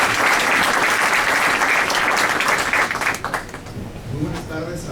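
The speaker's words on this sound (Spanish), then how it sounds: "vamos a darle un fuerte aplauso" Audience applause welcoming a speaker at a conference on oral litigation, loud dense clapping from a crowd that holds steady then tapers off into scattered claps and quiet room noise.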